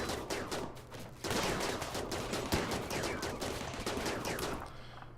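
Charge rifle fire crackles in a RimWorld battle, rapid repeated bursts of electronic gunshots in a dense, sustained volley, fairly loud and without talking.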